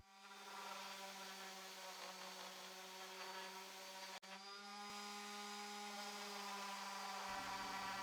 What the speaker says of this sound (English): Now I'll sand the outer part using the random orbital sander with 180 grit sandpaper.